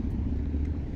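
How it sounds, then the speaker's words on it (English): A car engine rumbles low and steady nearby, a brief deep idle-like drone with no clear rise in pitch, heard alone without voices. "Yeah, the car's revving."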